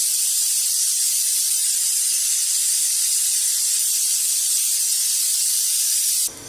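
Steam rushes from a pressure cooker on a gas stove while sambar of lentils and vegetables cooks: a loud, steady hiss that holds unbroken for about six seconds, then cuts off abruptly.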